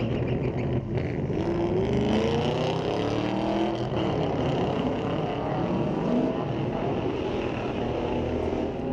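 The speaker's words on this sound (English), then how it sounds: "We got us a drag race." Chevy and Ford cars drag racing at Mission Raceway Park on a street-legal night, heard as a loud, continuous engine roar with pitch sweeps as the cars accelerate down the strip, steady throughout.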